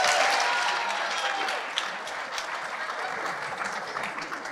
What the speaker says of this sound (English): one more round of applause for all the wonderful high schools.